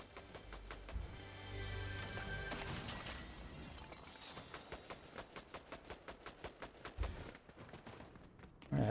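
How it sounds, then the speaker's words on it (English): Video game gunfire: a dense burst of rapid shots at the start, then a clear run of evenly spaced automatic rounds, close and moderately loud, with a heavier impact near the end. "Where the hell is all that gunfire coming from?"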